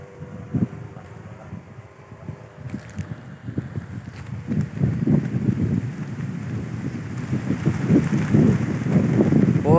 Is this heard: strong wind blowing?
yes